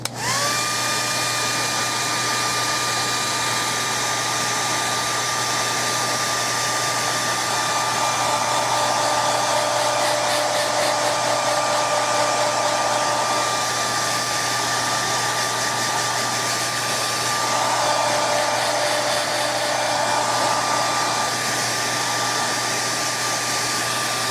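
A hair dryer blows steadily and loudly to dry off freshly etched samples, a constant whirring roar with a faint whine that runs without a break and with no talking.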